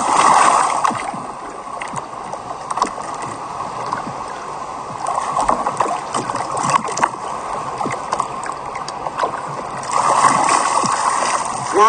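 A sea kayak rolls over in the water, giving sloshing and gurgling splashes with paddle movement, close and fairly loud, and the surges grow stronger near the start and near the end.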